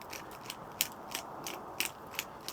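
A pepper grinder turning at close range, a quick run of crisp ratcheting clicks and crunches repeating at a fairly even rhythm.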